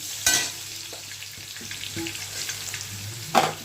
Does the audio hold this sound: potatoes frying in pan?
yes